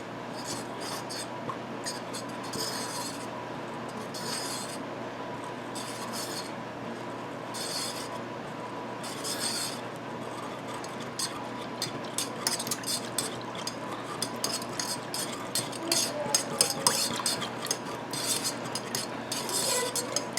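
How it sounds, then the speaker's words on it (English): Elderberry syrup being whisked in a bowl, a continuous scraping, rubbing rhythm with faint clinks that grows slightly louder and busier toward the end, with no talk. "it's got a lot of resistance at first as you start whisking"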